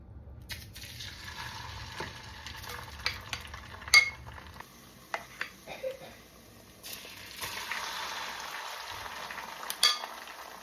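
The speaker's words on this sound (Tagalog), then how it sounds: "So, nag-heat na ako ng oil. Mag-fry na tayo." Breaded anchovies fry in hot oil, with intermittent stirring clinks and scrapes over a low sizzle that swells into a steadier hiss toward the end.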